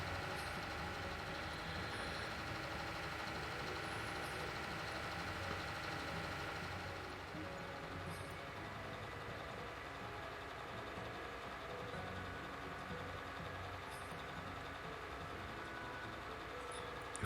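A tractor engine in Farming Simulator 19, a steady low droning rumble that runs continuously and evenly at a moderate distance, with no talking.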